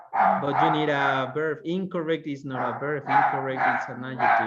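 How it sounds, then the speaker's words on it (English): A dog barks repeatedly and loudly in a nearby room, sharp yips and bow-wows recurring throughout while a person speaks over them during an online lesson. "Sorry about the barking"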